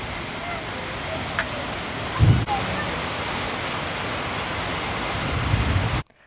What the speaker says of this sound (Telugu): ఇప్పుడైతే వర్షం చూపిస్తాను చూడండి